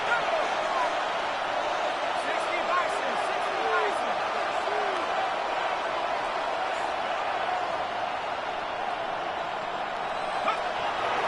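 Steady roar of a packed football stadium crowd building on third down, a dense continuous wash of cheering that stays loud and even throughout with no clear breaks.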